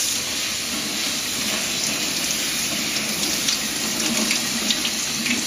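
Kale leaves are washed under a running tap, a steady, close, fairly loud rush of water into a sink with slight splashing changes, no one speaking.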